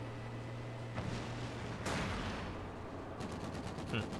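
Machine gun fire from a house in the World War II strategy game Company of Heroes 2, aimed at a sniper, crackling in short bursts amid battlefield noise with a steady low hum underneath.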